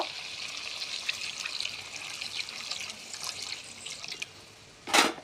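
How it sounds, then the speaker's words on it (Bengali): Water pours into a chicken curry as it cooks, a steady close trickle and splash that runs for several seconds, ending with a brief louder clatter. "এখন জল দিয়ে দেব"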